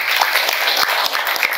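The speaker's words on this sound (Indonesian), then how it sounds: "tepuk tangan untuk SD Cijati" An audience at an education stakeholder gathering in Cileunyi applauds for an elementary school, a short burst of dense, continuous clapping that sounds close and fairly loud.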